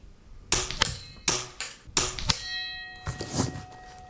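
Several sharp metallic clangs, each followed by a bright ringing tone that fades, as air rifle pellets strike a metal bell target at 35 at a steady pace.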